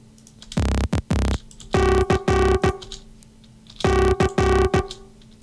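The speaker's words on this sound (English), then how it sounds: "which is just a saw wave going into a limiter, which is actually distorting it" Synth saw wave pushed into a fast limiter so it distorts, heard as clipped, buzzy stabs in short rhythmic bursts with silences between, loud and dry, with no voices.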